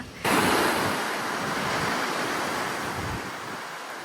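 Ocean surf at Playa Abama beach, Tenerife: after a brief quieter moment, a loud, steady roar of breaking waves sets in and rushes on continuously, mixed with wind buffeting the microphone.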